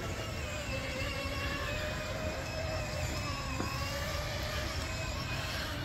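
A Power Wheels ride-on BMW, upgraded with two electric motors, drives uphill over grass with a steady, continuous motor whine and rumble that holds level throughout without a break.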